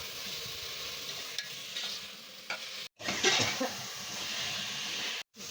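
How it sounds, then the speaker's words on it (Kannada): Vegetables for a village-style veg pulao frying with chilli, ginger, garlic and coriander paste: a steady hissing sizzle with close spatula stirring strokes and two brief cuts to silence. "ಹಾಕ್ಕೊಂಡು ಈ ಥರ ಎಲ್ಲ ಅದನ್ನು ಕೂಡ ಅದ್ರ ಜೊತೆಯಲ್ಲಿ ಫ್ರೈ ಮಾಡ್ಕೋಬೇಕು"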